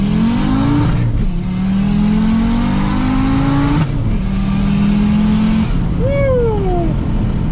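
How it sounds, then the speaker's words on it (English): An Audi UrS6 rolls along in first gear, its engine droning steadily and revving up in rising pitch sweeps, with brief dips between pulls and a final rising and falling rev near the end, loud and close throughout. "Do a little 1st gear roll."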